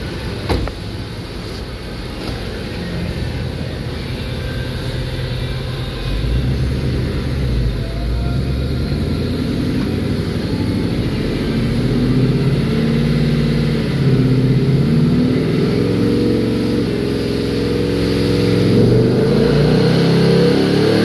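A car engine held at nearly full throttle drones steadily for about twenty seconds, its low, mid-pitched roar strengthening gradually toward the end, with no talking.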